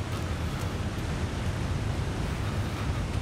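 A waterfall roars in The Long Dark, a steady loud broadband rush of falling water, constant and unbroken.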